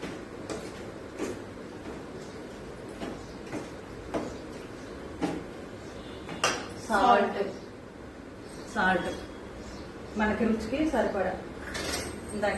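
Mutton pickle pieces being mixed in a pot with coriander powder, giving scattered scrapes and metallic clinks of spoon on pot, with bursts of stirring noise alongside a voice talking.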